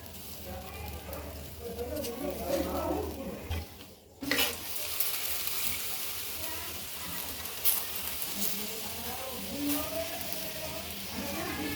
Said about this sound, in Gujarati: હવે આને આમ ઉલટાવી નાખીશું પછી તેલ લગાવીશું